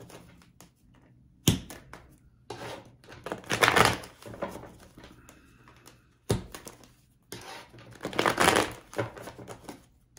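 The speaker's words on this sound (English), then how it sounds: "So let's shuffle the cards a bit." Tarot cards being shuffled by hand, with two bursts of riffling and rustling, each opening with a sharp knock and separated by quieter handling noises, close to the microphone with no speech.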